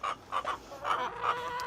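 Hens cluck in a roomy backyard chicken coop built for about ten birds, giving soft repeated clucks in uneven bursts that sound moderately faint.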